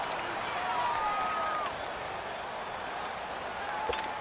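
Steady roar of a home crowd at a football game, a continuous wash of distant cheering and noise filling the stadium, with a whistle-like tone briefly rising above it.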